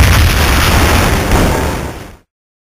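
A firework exploding right beside someone, a loud close blast that fills the first two seconds with a rumbling burst before cutting off into silence.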